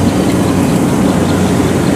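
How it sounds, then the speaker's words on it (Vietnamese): A Yamaha 4T engine rated at 120 horsepower drives a homemade Vietnamese rice harvester, giving a steady, loud, close low rumble without pauses or voices. "ảnh xài động cơ Yamaha"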